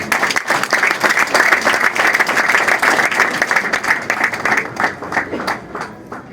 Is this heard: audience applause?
yes